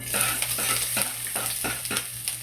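Ingredients sautéing in a pan for Bicolano pinulpog, with a close continuous sizzle and regular scraping strokes of a spatula about every third of a second.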